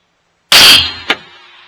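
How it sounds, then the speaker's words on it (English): A single loud, sharp rifle shot fired at a target 500 yards away, followed by a short decaying echo and a faint distant impact crack about half a second later. "we're going to try to shoot at 500 yards"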